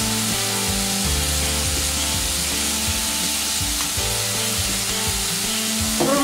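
Cherry tomato wedges with salt and pepper frying in a pan, a steady, dense, close sizzle running throughout with no talk.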